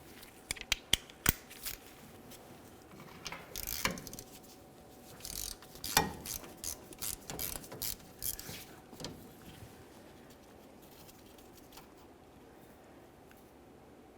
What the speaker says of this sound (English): Let's remove that screw, give it a quick inspection, and set it aside.